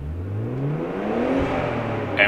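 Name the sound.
car engine free revving on the street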